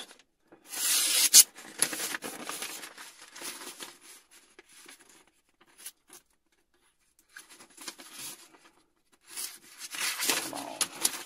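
An MBK Fieldtrekker blade cuts into sappy wood in short bursts of close rasping, scraping strokes separated by quiet pauses, with no talking.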